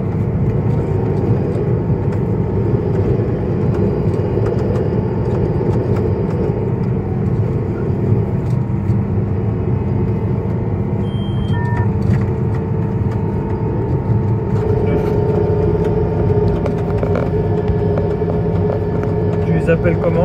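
Self-propelled alfalfa mower running in a field, a loud steady engine drone with constant low hum and mechanical whine throughout, with people talking over it.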